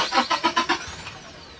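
A Toyota Innova engine cranks without starting: five quick, even starter pulses in about a second, fairly close, and then it stops without catching.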